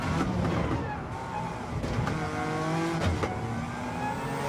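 A Suzuki Escudo race car in Gran Turismo 7 revs its engine through a gear shift, with a steady loud drone and a sharp pitch drop at each short shift, plus faint talk beneath.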